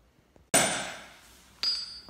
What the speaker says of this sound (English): So all that hammering got it about halfway down.